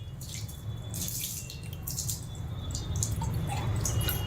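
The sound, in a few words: water being poured from a lota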